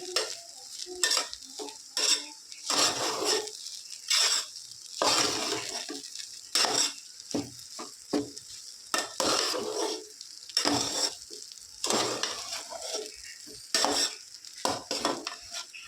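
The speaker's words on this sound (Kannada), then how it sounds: "ಎಲ್ಲ ಕಡೆಯೂ ನೀಟಾಗಿ ಮಿಕ್ಸ್ ಮಾಡ್ಕೋಬೇಕು" A spatula scrapes and stirs leftover rice with egg in a pan, producing repeated bursts of metallic scraping in an uneven rhythm, with faint sizzling between strokes, close to the listener.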